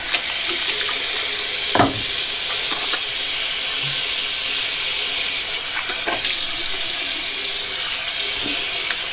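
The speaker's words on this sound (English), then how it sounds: "let's wash the face" Water runs steadily from a tap at a sink while someone splashes and washes their face before a wet shave, a constant rushing hiss with a few faint splashes and no talk.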